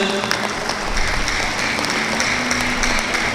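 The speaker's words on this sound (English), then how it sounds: "So why don't we practice clapping our hands all together, ladies and gentlemen?" A town-hall audience at a mayoral inauguration event in Aloran claps together in a brief burst, dense crisp applause filling the hall with no speech over it.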